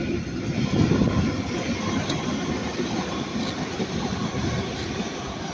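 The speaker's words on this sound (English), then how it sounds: "passing by now is going to be a Transpennine 397" A TransPennine Express Class 397 Nova train, running from Edinburgh to Manchester Airport, passes at Ardwick with a loud, continuous broadband rumble and roar that stays fairly even, swelling slightly early on.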